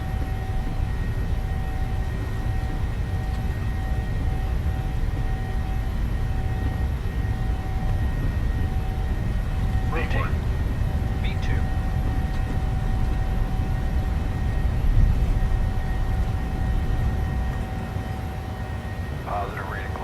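Simulated PMDG 737-700 jet on its takeoff roll from Baltimore in Microsoft Flight Simulator: a steady, dense engine roar with a thin whining tone above it, holding at one level and easing slightly near the end.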